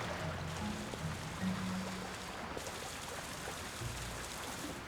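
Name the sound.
waterfall in The Legend of Zelda: Tears of the Kingdom video game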